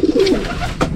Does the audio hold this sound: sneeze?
no